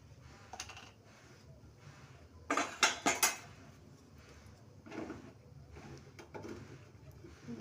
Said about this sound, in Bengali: দিয়ে আমি ডিম আর লবণটাকে একসাথে করে মিশিয়ে নেব